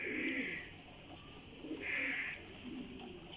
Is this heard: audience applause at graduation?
no